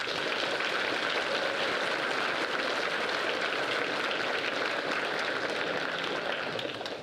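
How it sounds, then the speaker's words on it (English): A school audience at an underclassman awards ceremony applauds the honorees, a steady, dense roar of many hands clapping that holds evenly from start to finish, with no talk. "Will you please give our honorees a round of applause?"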